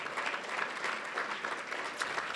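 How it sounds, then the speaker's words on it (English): At a business outlook forum, an audience applauds standing board members and staff with steady, moderately distant clapping and no voices over it. "And a round of applause."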